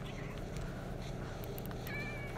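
A cat meows in a pirate-themed video game, a few faint cries set against a steady background hum, with a voice murmuring at times.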